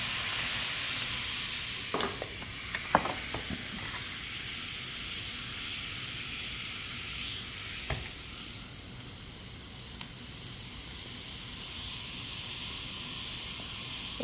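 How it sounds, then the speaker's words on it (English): Continuous soft fizzing hiss of a bath bomb dissolving in water, with a few small clinks and taps early on, steady and close throughout. "It fizzes because of baking soda."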